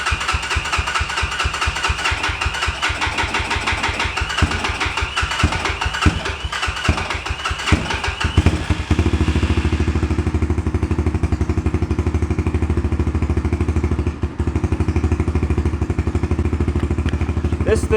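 An Apollo 250 RX motorcycle with a worn carburetor, cranked by its starter in fast, rapid pulses for about nine seconds. It then catches and settles into a loud, steady, rough idle that runs on close by, with no talking.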